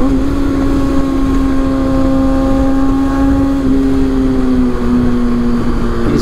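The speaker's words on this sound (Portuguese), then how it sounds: "Estamos acelerando para casa." A Kawasaki ZX6R motorcycle carries a rider and passenger on the road, its engine a loud, steady droning whine with a brief pitch shift midway, under heavy wind rush.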